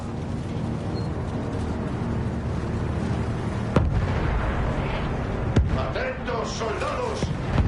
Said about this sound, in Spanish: ¡Fuego de artillería!